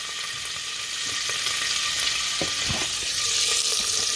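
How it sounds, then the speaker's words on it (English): Pancetta fries in a pan for pasta fagioli with a constant bright sizzle and hiss, plus a few soft clicks and taps from the pan, and no one speaking. "so we cook the pancetta"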